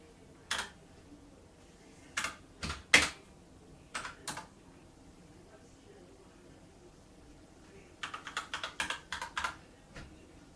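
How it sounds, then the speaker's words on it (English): Keys on a Rantopad MXX mechanical gaming keyboard with red switches are pressed, giving scattered single clicks followed by a quick burst of rapid keystrokes near the end, close and fairly faint. "we can just hit keys to make them stay on."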